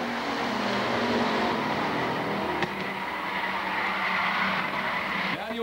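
A bomber-class race car spins out during a ten-lap heat race at Lakeport Speedway. A steady, moderately distant roar of engines carries a drawn-out tire squeal and skid, with a few sharp clicks.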